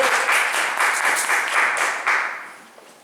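A classroom of students applauds a classmate, steady dense clapping that holds evenly and then fades out toward the end, with no talking over it.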